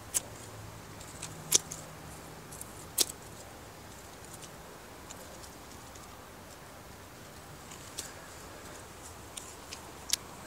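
Pruning shears snipping spent vegetable plants down at the base in a November garden: a handful of sharp, isolated clicks spaced several seconds apart over a quiet outdoor background.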